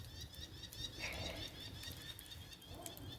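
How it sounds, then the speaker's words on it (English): Birds flap their wings and softly coo and chirp, a faint, steady background of fluttering and calls with a brief louder flurry of wingbeats midway. "I forgot what kind of birds those"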